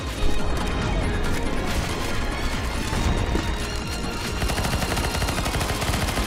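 Rapid gunfire in a zombie shooter video game: dense, continuous bursts of shots and impacts fill the whole stretch at steady loudness, with no clear talk over them.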